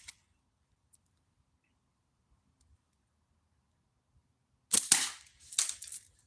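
A natural-fork slingshot being shot outdoors: a near-silent stretch, then two sharp, close snapping cracks in quick succession near the end.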